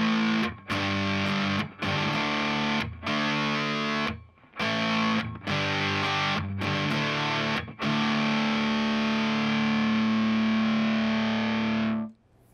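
An electric guitar with a Dean Michael Schenker pickup is cranked through a Mesa Boogie amp on its overdrive channel. Thick distorted chords are struck and cut off several times, then one chord rings out long before stopping abruptly, with no talking.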